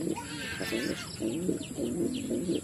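Domestic pigeons kept as pets coo softly in a coop, a steady run of low rolling coos with a few faint chirps mixed in, close by and without talk.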